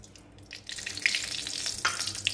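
Oil heating in a hot wok for cooking banana flower with chickpeas and mung dal gives a soft, steady sizzle that swells after a quiet start, with a few brief spits and crackles, close by and alone.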